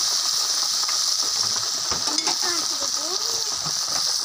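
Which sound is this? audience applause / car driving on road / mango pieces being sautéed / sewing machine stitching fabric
mango pieces being sautéed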